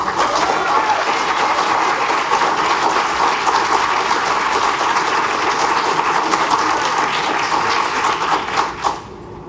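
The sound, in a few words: audience applause at a council meeting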